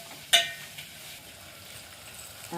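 A spoon scrapes once against a pan of tomatoes frying for a village chicken curry cooked outdoors in a field, followed by a soft steady sizzle close by.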